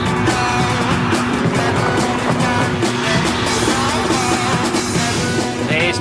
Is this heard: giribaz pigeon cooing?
no